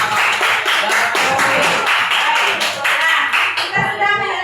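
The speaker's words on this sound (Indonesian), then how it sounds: "Oke, tepuk tangan buat Alia." Classroom of students clapping for a classmate, a dense steady burst of many hands at close range with some voices mixed in, fading near the end.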